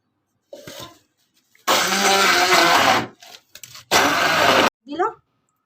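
An electric blender whirs loudly in two bursts, about a second and under a second long, blending a fish marinade with lemon juice and vinegar, with brief speech and kitchen noises in the gaps between.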